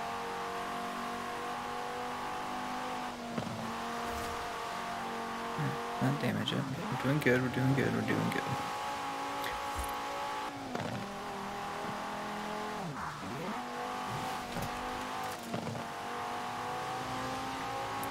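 Audi Sport Quattro engine in Forza Horizon 4 humming steadily while driving, rising into harder revving and tire noise midway, with someone talking over it.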